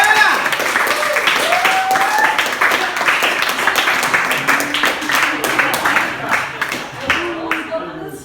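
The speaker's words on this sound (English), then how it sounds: "A very hearty clap." A live audience claps heartily to welcome young musical guests onto a stage, dense sustained applause with cheering voices and whistles mixed in throughout.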